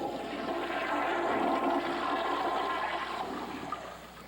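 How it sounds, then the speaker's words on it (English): A steady rushing toilet flush with running water, continuous and moderately loud throughout, easing slightly toward the end, with no talk. "folks were given the good news that they could go ahead and flush"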